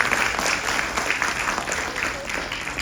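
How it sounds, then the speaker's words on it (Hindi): A theatre audience at a Ramayan stage performance breaks into dense, sustained applause that stays loud and continuous throughout, with no clear voices over it. "तो एक बार उनके लिए भी जोरदार तालियां।"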